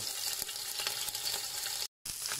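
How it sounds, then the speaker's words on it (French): Beef pieces for pot-au-feu sear in a hot pot, a continuous bright sizzle with faint crackles that drops out briefly near the end before resuming. "Donc là, on va marquer les viandes. Donc, mettez morceau par morceau"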